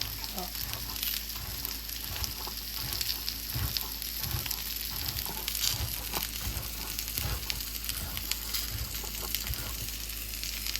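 Salmon frying in a pan, a steady broadband sizzle with crackling and occasional low thumps throughout, no talk over it.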